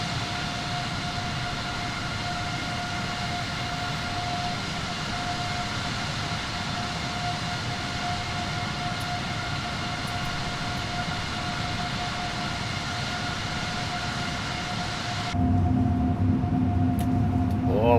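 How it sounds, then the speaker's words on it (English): Airbus A330neo jet engines howling in a steady, loud drone during the climb after takeoff, heard from inside the cabin, with a sudden shift in tone near the end. "Oh, listen to those engines howl."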